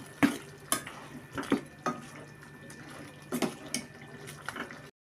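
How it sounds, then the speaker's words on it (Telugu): A spoon stirs chicken with salt and turmeric in a pan. The sound is quiet and close, with scattered light scrapes and clinks against the metal over a faint low background. "అలాగే కొంచెం పసుపు వేసుకుందాం, 1 స్పూన్ పసుపు. కలుపుకుందామండి."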